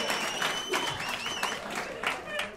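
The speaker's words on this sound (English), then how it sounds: "Round of applause if you don't have kids." Comedy club audience applauding in response to a comedian's prompt, a steady wash of clapping with some cheering voices over the crowd, moderately loud throughout.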